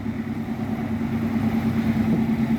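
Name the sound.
two-cylinder diesel tractor engine running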